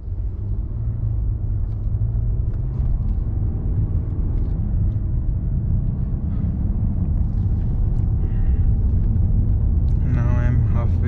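Vehicle engine running on a dyno at 25% throttle, a steady low rumble close by throughout, with some faint higher mechanical whine near the end.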